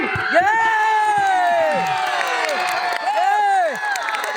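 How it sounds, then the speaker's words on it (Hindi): Spectators at a volleyball tournament final between Azamgarh and Muradabad, a dense crowd roaring with whoops, shouts and children's high yells throughout, with scattered clapping mixed into the steady, loud din. "तालियां हो जाए भाई"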